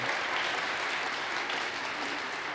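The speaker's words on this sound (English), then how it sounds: "I will accept mercy applause" A soft wash of audience applause follows a comedic sermon, fairly faint and even, lasting a couple of seconds with no talking.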